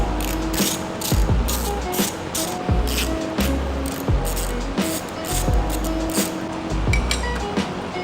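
Repeated ratchet clicking while a nut on a motorcycle's lower triple tree is undone, a Honda Magna under repair; brisk bursts of close pawl clicks with short pauses and occasional metallic clinks.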